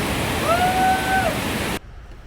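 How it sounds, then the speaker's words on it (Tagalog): Klong Chau Waterfall on Koh Kood, Thailand, swollen in monsoon season, a steady broadband roar of falling water close by that cuts off abruptly near the end, with a brief whistling tone passing over it. "this is our second waterfall for today, Klong Chau Waterfall"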